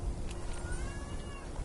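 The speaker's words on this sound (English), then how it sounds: "That's my cat. You can probably hear in the background." A pet cat meows in the background, a faint, drawn-out cry over a low steady hum in a quiet room.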